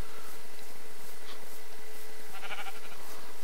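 Sheep bleating in the Minecraft video game, a few short synthetic bleats over a steady game background hum, with no one talking.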